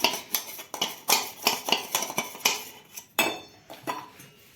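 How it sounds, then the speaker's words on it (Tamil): A spoon stirs rice flour in a metal vessel, scraping and clinking against the sides in a quick, steady rhythm, close and fairly loud with no talk. "அரிசி மாவை கட்டி இல்லாமல் கலக்கிறதுக்காக நான் இந்த பாத்திரத்தில் கலந்துட்டு அதுக்கப்புறமா ஒன்றா ஊற்றலாம்"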